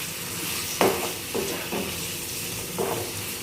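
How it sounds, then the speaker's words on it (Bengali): Fried paneer and soybean cooking with masala in a pan, a continuous loud hiss of frying with a few scraping stirs of a spoon, close and without speech. "এখন ভেজে রাখা পনির আর সয়াবিনটা দিয়ে দেবো। এটাও এখন ভালো করে মশলার সঙ্গে একটু কষিয়ে নিই।"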